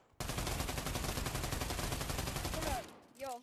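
Sustained automatic weapon fire in the VR shooter Pavlov, a dense rapid burst of shots lasting nearly three seconds, loud and close, ending abruptly before a brief voice.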